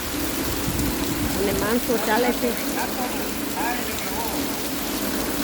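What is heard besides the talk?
heavy rain falling in Porbandar, Gujarat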